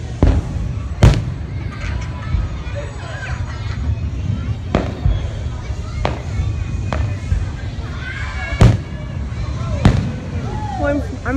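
Fourth of July fireworks bursting outdoors, with several sharp booms and crackles spaced irregularly over a steady backdrop of crowd noise and scattered voices.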